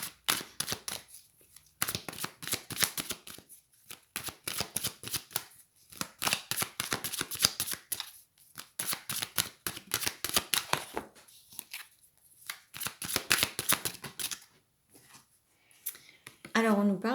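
Oracle cards shuffled by hand in rapid, papery riffles and slaps that come in long bursts with short pauses, close and fairly loud, while a voice talks intermittently.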